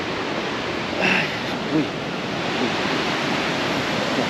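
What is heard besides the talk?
waterfall near suspension bridge in British Columbia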